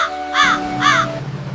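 Two loud, harsh crow caws sound close by, evenly spaced about half a second apart, with no other sound around them.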